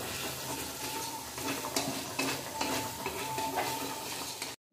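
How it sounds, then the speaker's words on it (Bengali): Chicken for chicken samosa filling is sautéed in a pan with mayonnaise, giving a loud continuous sizzle with rhythmic scraping and stirring strokes of a spatula, close up and without talk. "এবার এটা দিয়েও ভালো করে চিকেনটা কষিয়ে নেওয়া হবে।"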